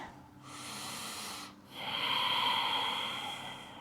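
Deep breathing during a vinyasa flow yoga practice, close and clear: a long inhale, a short pause, then a longer, fuller exhale with an airy hiss.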